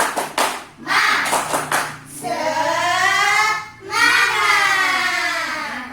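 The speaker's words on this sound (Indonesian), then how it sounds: "Tepuk semangat." Schoolchildren in a classroom clap a rhythmic spirit clap in quick bursts of hand claps, then break into loud group chanting voices that swell and fade.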